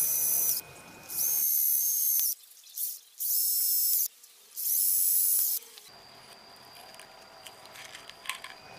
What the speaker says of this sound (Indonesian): Buat 4 lubang dengan mata bor 2 mm di bagian tengah celah sempit atau di bagian ujungnya.